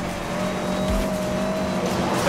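A Subaru Impreza Cosworth in Need for Speed: Most Wanted (2012), driven on dirt, gives a steady gasoline engine drone with tire noise and a brief low thump, all loud and continuous.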